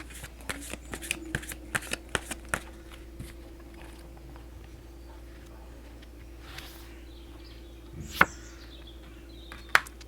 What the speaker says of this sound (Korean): 그럼 멜로님을 위한 조언 카드 3장 한번 뽑아보도록 하겠습니다.